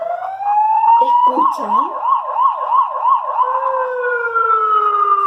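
Police car siren wailing in a fast rising and falling cycle, loud and fairly close, with one brief spoken question at the start.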